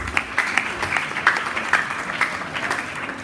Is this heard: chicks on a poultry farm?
no